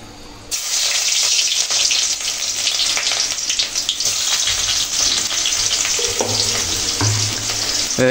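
Chopped onions drop into hot oil with bay leaves in a pan. After a brief quiet moment a loud, close, crackling sizzle bursts up and continues steadily, with light stirring clatter and no speech.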